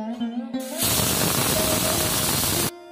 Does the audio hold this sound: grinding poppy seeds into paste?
yes